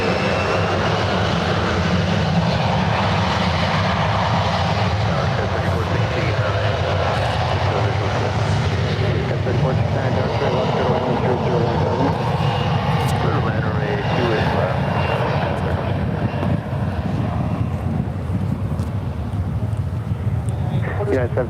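An airliner takes off from runway 1 right at San Francisco International Airport, a continuous broad roar of jet engines that stays loud and steady throughout.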